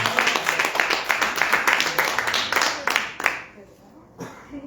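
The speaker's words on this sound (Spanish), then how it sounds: "Denle un fuerte aplauso a Cristo Jesús" A church congregation bursts into loud applause, dense sustained clapping that fades out after about three seconds, with a few scattered claps trailing into the quiet.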